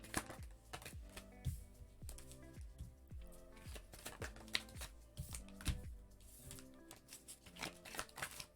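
Tarot cards are shuffled and pulled for a pick-a-card reading, giving a quiet, close run of repeated crisp riffling and slapping strokes in an uneven rhythm.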